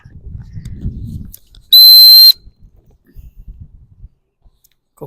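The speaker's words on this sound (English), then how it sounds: "And then I blow the stop whistle when he's not too involved." A gundog stop whistle gives one loud, steady, high-pitched blast lasting about half a second. Soft rustling and movement come before it, and faint scuffling follows.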